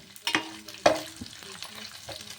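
Curry leaves fry in hot oil with a soft crackling sizzle, broken by a few sharp pops and a spatula scrape, close and fairly quiet.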